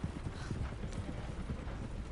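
Horse hooves clip-clop in a steady, even rhythm in the Red Dead video game, a continuous trotting patter heard alone at moderate volume.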